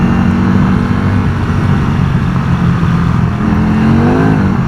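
A Can-Am Spyder three-wheeler fitted with M2 shock suspension accelerates hard out of a turn, its engine revving loud and close in a continuous, rising drone with wind rush. No voices are heard.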